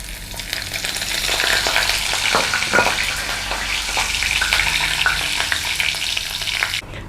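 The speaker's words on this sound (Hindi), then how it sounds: "अब इसमें हम ये तड़का डाल देते हैं।" Dried red chillies, cumin and asafoetida hitting hot oil for a tadka, a loud continuous sizzle and crackle close by with a sharp cutoff at the end, no talk.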